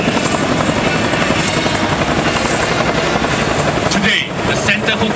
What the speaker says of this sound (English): the Chinook has been the workhorse and employed in many roles such as search and rescue, firefighting, parajump, cargo or personnel transport, and casualty evacuation